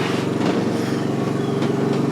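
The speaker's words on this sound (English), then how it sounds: "I'm sitting here letting that motor run." A Honda motorcycle engine idles steadily, close and loud, in an even continuous run with no talk over it.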